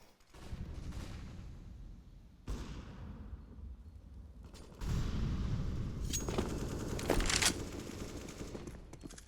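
Counter-Strike gunfire on the Inferno map during a competitive Unique vs forZe match: repeated rifle bursts and scattered shots, fairly distant and quiet, building into denser firing toward the end.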